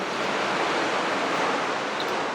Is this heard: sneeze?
no